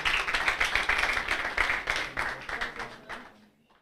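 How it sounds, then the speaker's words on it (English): Audience clapping at an inter-university public interest litigation moot court competition in Uganda: a lively burst of hand claps with distinct individual smacks that thins out and fades to near silence at the end. "Let's clap for her again."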